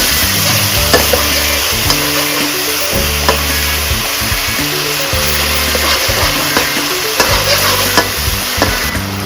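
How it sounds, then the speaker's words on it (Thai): Undulated surf clams are stir-fried in a wok with seasoning sauce, pounded garlic and roasted chili paste, giving a loud, steady sizzle with repeated scraping and tossing strokes throughout and no talking. "ขั้นตอนต่อไปใส่น้ำปรุงค่ะผัดเลยนะคะ"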